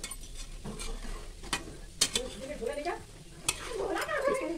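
Bajra flour puas frying in a pan, a soft steady sizzle of oil with occasional clinks and scrapes of a utensil turning them, fairly quiet and close.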